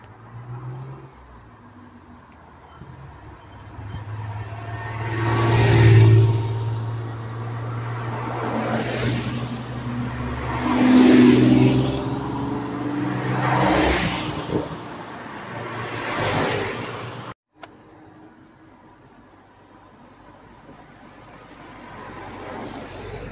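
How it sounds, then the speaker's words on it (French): An Alpine sports car approaches and passes on a road toward Estaing, its engine swelling in several loud surges before fading away, with no talk. "Ah, c'est une Alpine."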